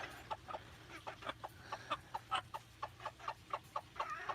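Repeated soft clucking from chickens behind bars, a steady series of short calls at close range over a low background hum.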